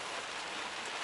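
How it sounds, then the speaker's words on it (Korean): Steady rain falls outdoors as an even, dense hiss with no breaks, fairly soft and close, with no voices over it. "비가 내리네요."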